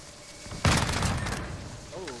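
Gunfire in the shooter game Modern Warfare, with a semi-auto AN-94 in play: one sharp, loud shot bursts out and rings into a noisy rumbling tail, followed by fainter scattered game sounds.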